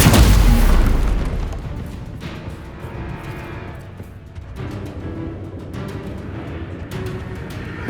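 A loud spell explosion in Hogwarts Legacy booms at the very start, then decays into a sustained rumbling wash of game ambience with scattered small impacts.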